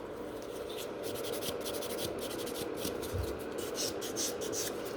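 Fingernail being shaped with a Melodysusie electric nail file, a close, soft continuous rasping with quick repeated strokes over a low motor hum, with no talking.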